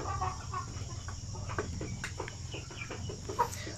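RTL pure Basilan native chickens, a flock of laying-age birds each around two kilos, cluck in short repeated calls close by over a steady low background hum.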